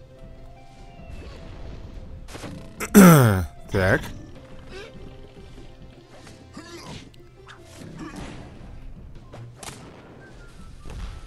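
Cannons firing in the game Dino Bash, two loud booming blasts close together early on, followed by scattered softer impacts while someone speaks briefly.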